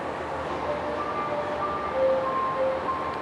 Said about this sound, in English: I hear the chime, I see the train.